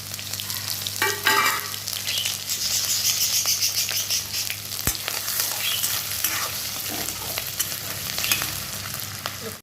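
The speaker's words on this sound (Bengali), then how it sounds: "ওই তেলে দিয়ে দিচ্ছি 2টো শুকনো লঙ্কা ফোড়ন, হাফ চামচ গোটা জিরে, হাফ চামচ মেথি মৌরি, গ্রেট করা 1 চামচ আদা" Dried red chillies, whole cumin, fenugreek, fennel and grated ginger fry in hot oil for chana dal, a steady close sizzle broken by light stirring clatter, with no talking.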